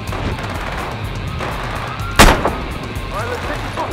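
A single sharp, loud gunshot in the video game Battlefield Hardline cracks out midway through, ringing briefly over low ambient game rumble.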